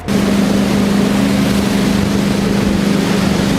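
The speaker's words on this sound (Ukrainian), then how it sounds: "разом із тренером та групою підтримки вирушає на катері на стартову позицію" A motorboat carrying a wakeboarding group and coach out to the start, its engine a loud close steady drone with a strong low hum and wash of water noise, no voices.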